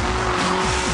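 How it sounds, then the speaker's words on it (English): A Bedford Rascal kei truck drifts with a loud, continuous tire squeal over steady engine drone, close and unbroken for under a second. "I'm drifting a Bedford rascal!"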